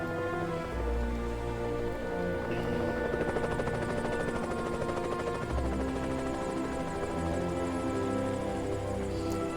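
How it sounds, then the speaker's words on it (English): A helicopter in the video game Evil Genius gives off a steady whirring drone alongside a rain-like hiss and game music, moderately loud and continuous with no voices. "this time it's gonna be the helicopter"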